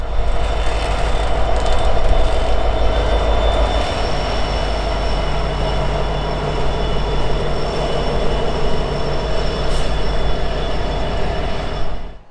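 A Norfolk Southern freight train climbing through the Allegheny Mountains, a loud continuous diesel rumble with grinding wheel and rail noise passing close by for the whole stretch before cutting off abruptly.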